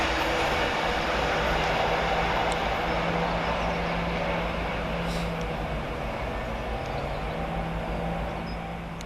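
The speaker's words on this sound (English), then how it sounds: "745001 passes with 1P04 from London Liverpool Street to Norwich" A Class 745 electric train, unit 745001, passes through Goodmayes railway station in London, a broad sustained roar of wheels on rail with a faint steady hum, loud and close throughout before easing slightly at the end.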